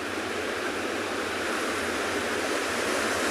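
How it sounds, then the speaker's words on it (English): Ocean waves breaking on a South African shore at high tide, a steady, broad wash of surf with rumbling low tones, continuous and fairly loud with no voices. "just to enjoy the sound of the waves and be in awe of it just like I am"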